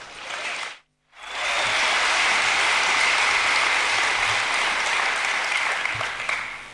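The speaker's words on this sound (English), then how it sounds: "So big round of applause for Shubs." A conference keynote audience at BSides Canberra bursts into loud, sustained applause after a brief pause, dense clapping filling the room steadily for several seconds.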